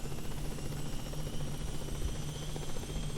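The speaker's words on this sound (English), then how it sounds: "I think we got a good helicopter here" A helicopter rotor in the Kerbal Space Program video game drones steadily with a dense, even buzzing hum, loud and continuous throughout with no talk.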